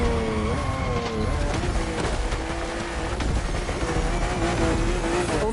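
BMW M2 and M4 race cars howl along a narrow, twisting track, engines droning loudly and continuously with pitch shifting as they accelerate and brake.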